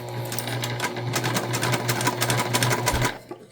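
Sewing machine running steadily for about three seconds while stitching fabric around a curve on a small holiday sewing project, a close, continuous motor hum with rapid needle chatter that slows and stops at the end.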